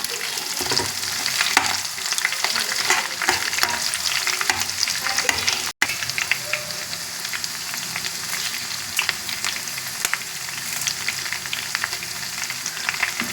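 Garlic and curry leaves frying in hot oil as a tempering for ginger chutney, a loud, continuous close crackle and sizzle with scattered sharp pops and stirring, no voices, holding steady throughout apart from one instant cut.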